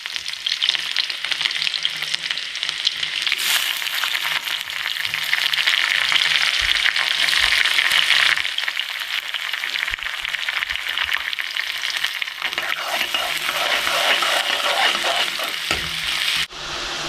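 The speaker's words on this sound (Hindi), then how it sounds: "तो इसमें लगाएंगे चक्के का तड़का।" Steady, loud sizzling of spices frying in hot oil in a kadai for a tempering, with occasional stirring scrapes; the crackle continues unbroken and fills the whole stretch.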